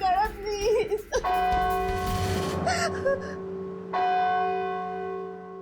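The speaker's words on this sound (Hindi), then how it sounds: "घंटी सुनी तुमने?" A ringing bell strikes loudly and sustains with long tonal overtones, then strikes again about halfway through and decays. A gasping, whimpering voice is heard just before the first strike.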